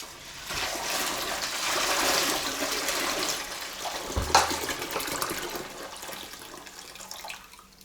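Water gushes and rinses down a sink plug hole, swelling over a few seconds and then draining with a gurgle before trailing off, close and alone without talk.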